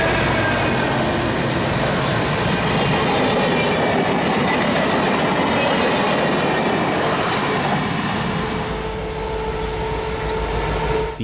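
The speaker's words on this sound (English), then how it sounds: "The SN Steel train heads east through Antioch with freshly painted Rock Island bankruptcy blue boxcars just ahead of the caboose." A Santa Fe steel freight train with Rock Island blue boxcars and a caboose rolls east through Antioch, a loud steady rumble of wheels on rail with rhythmic clatter that eases near the end.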